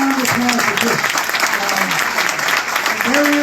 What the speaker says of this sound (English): big round of applause for Chris